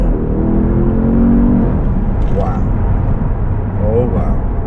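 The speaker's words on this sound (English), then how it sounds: "So we were running on hybrid electric power up to 30 miles per hour, and then the petrol kicks in." A Porsche Panamera Turbo S E-Hybrid in sport mode accelerates as the petrol engine joins electric drive, giving a steady loud engine roar and whir throughout, with a person talking over it.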